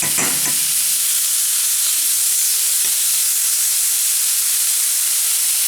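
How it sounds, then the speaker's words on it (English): Finely diced onions saute in butter in a pan, a loud, even hissing sizzle that runs continuously, with a few soft clinks and stirring scrapes near the start. "We're going to saute these onions."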